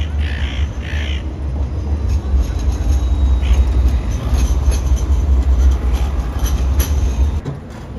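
Tram bound for Circular Quay in Sydney, a steady low rumble rolling past through the whole stretch, with crows cawing faintly in the street background.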